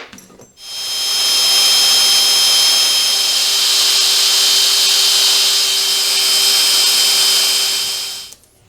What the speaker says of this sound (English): And then I'll continue with the tap size drill.